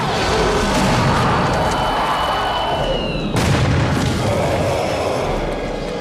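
A missile explosion from a close fight with the creature in the film Predator 2: a loud, dense, roaring boom with a sharp burst partway through, filling the whole stretch of the soundtrack.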